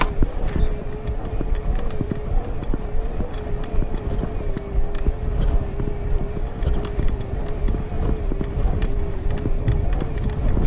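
Electric e-bike motors on a hill climb give a steady whine under constant rolling and rattling noise, close and continuous with no talk.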